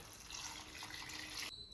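Water poured from a cup into soaked basmati rice in a pot while making vegetable dum biryani, a steady close splashing pour that stops abruptly near the end.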